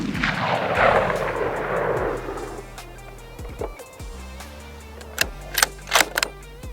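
Rifle shots from a Ruger American Gen 2 in .308 at an outdoor range: one loud crack with a trailing rumble, followed by quieter clicks and handling noises of the bolt and gear.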